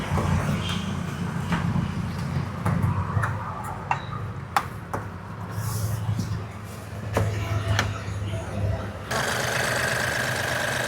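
A car engine idles steadily with a low, rhythmic ticking hum, close by, amid some clicks and handling noises.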